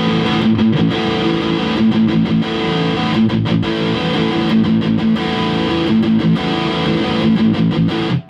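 Loud, heavily distorted electric guitar chords strummed continuously with a thick, saturated sustain.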